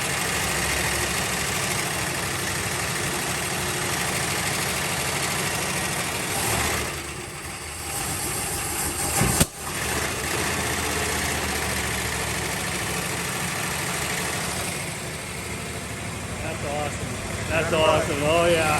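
Barn-find Monaco car engine, sitting unused for 36 years, idling with a steady, dense rumble throughout, a brief dip and a sharp knock midway, with voices talking over parts of it.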